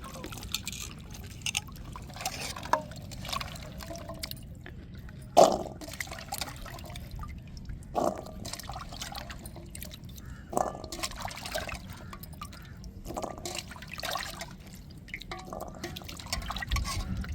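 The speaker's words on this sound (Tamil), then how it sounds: "நல்லா அலசி எடுத்துக்கிறேன்னு நெல்லிக்காவை" Indian gooseberries (amla) being rinsed in water in a kitchen: soft sloshing and dripping with a few sharper splashes and knocks, quiet and close, with no talking.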